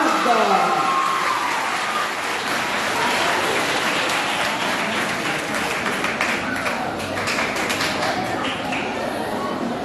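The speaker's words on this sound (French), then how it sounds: "Sous vos applaudissements, l'école adventiste de Limonade." An audience applauds a school team, the Adventist school of Limonade, at a quiz final in Haiti, a long, even spread of clapping from a hall crowd with a voice heard under it.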